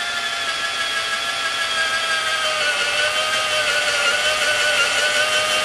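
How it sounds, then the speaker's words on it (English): A power drill boring holes into the back half of a wooden pinewood derby car, a loud steady whine that holds an even pitch for several seconds without pause, close by and with no voices. "Drill holes as many as you can in the back half of your car."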